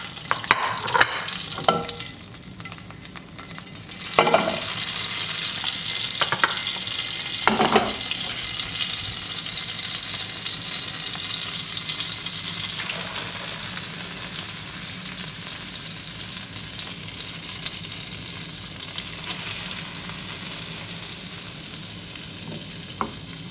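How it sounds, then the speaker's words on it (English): Chicken breast frying in a pan for a creamy skillet dish gives a steady close sizzle throughout, with a few louder clatters and scrapes of the utensil against the pan near the start. "I'll place it in my frying pan."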